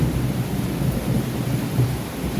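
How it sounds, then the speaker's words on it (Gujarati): Heavy monsoon rain during a thunderstorm, with a dense, continuous roar of downpour and low rumbles of thunder rolling beneath it. "ગાજવીજ સાથે મસ્ત વરસાદ આવી રહ્યો છે આજે જન્માષ્ટમીના દિવસે."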